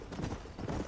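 Quick, close horse hoof clip-clops trotting in the Red Dead Redemption video game, a brief rhythmic burst of hoofbeats.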